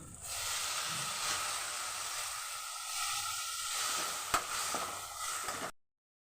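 Sliced turkey berries and tomato fry with onions in a pan, giving a steady close sizzle and hiss with soft stirring scrapes throughout, then cutting off abruptly near the end.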